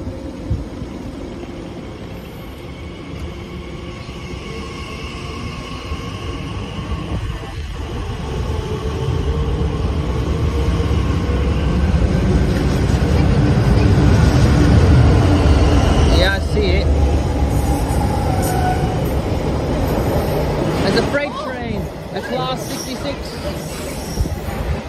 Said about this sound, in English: Train departing.